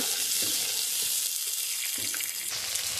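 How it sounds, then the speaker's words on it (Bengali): Ridge gourd and potatoes fry in a pan with a steady, close broadband sizzle, joined by a few soft stirring knocks. "এবার ঝিঙে আর আলুগুলো দিয়ে দেওয়া হলো। এগুলো এবার ভালো করে কষানো হবে।"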